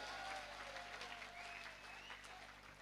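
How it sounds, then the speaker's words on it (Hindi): Audience at a poetry recital (kavi sammelan) in Sardarshahar claps with both hands raised, a steady, fairly faint wash of applause with no speech over it. "एक बार दोनों हाथ ऊपर उठा के तालियां बजा के हम संजीव सजल को बुलाएं।"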